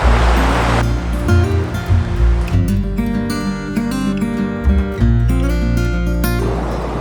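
A small river in inland Spain rushes steadily close by, its broad watery hiss loud at the start and end, with background music playing over much of the middle.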